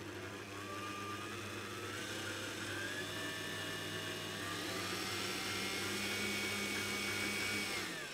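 Electric mixer beating egg yolks for soft petit four dough, a steady whirring motor hum that runs continuously at moderate level without pause or talk.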